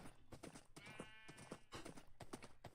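Horse hooves clip-clopping in the video game Minecraft, played with a modpack, in quick rhythmic clusters of close thuds over a short stretch. A faint background voice or noise comes and goes.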